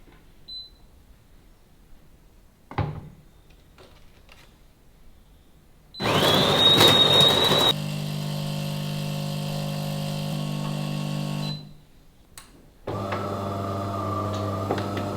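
A loud home coffee machine in Barcelona grinds with a harsh, high-pitched whir, then drops into a steady, heavy mechanical drone for several seconds, and after a short pause starts up again with a droning, humming run.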